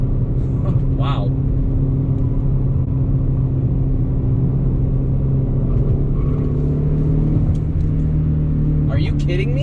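A Mercedes-Benz C300 W204 accelerating hard, with steady in-cabin engine hum and road rumble and a slowly rising tone, and brief voices near the start and end.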